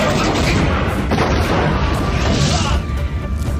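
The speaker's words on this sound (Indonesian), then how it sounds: "Ko pun melakukan tembakan ke sebuah mobil yang berada di sekitar Shimazaki berada." A film gunshot fired at a car: loud, broad blasts with sharp impacts near 1 second and again around 2.5 seconds, set in a dense, noisy action soundtrack.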